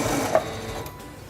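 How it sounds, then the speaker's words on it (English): Quilting sewing machine stitching fabric to the end of a seam, a soft, quick mechanical whir heard close and alone. "Release the reverse button and sew to the end."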